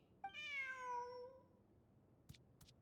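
A cat in the video game Genshin Impact gives one clear, drawn-out meow that falls in pitch, followed by two short soft clicks.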